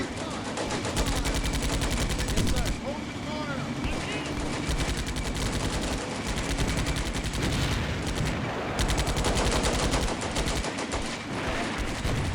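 Dense, sustained small-arms and machine-gun fire rattles through a Combat Mission Beyond Overlord battle, with rapid bursts overlapping continuously and someone talking over the shooting.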